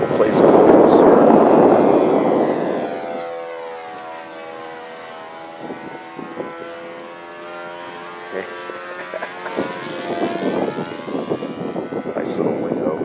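A SIG Kadet LT-40 RC trainer plane with an O.S. FS-52 four-stroke engine flies overhead at a lake. Its droning buzz rises and falls in pitch as it passes, loud at first, then fading and returning, with wind rumble and voices nearby.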